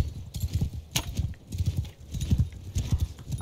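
Many horses gallop into a battle in a medieval war setting, dense rhythmic hoofbeats pounding close and loud with an occasional snort or whinny riding over the steady clatter.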